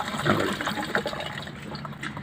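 Water is poured while Holi colours are prepared, a steady gurgling splash that runs throughout, moderately loud and close, with no talking.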